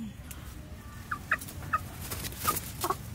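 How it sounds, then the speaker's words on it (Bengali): Native country chickens on a Bengal homestead give several short, fairly faint clucks in quick succession over low background rumble. "এবারে পিওর দেশি মুরগি কিন্তু মাসি এগুলো সব।"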